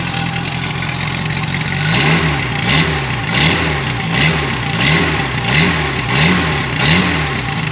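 Renault Dauphine engine revving in rhythmic bursts, roughly seven rises and falls in pitch over a steady idle, close and fairly loud with no talking.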